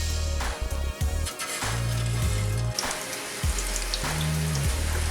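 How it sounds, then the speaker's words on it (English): Kebabs sizzle in hot oil in a home kitchen, a steady hiss and crackle running throughout with low clunks and scraping as they are placed and moved, and no talking. "Oil is now ready and hot to cook kebab. I'm going to start putting kebab in"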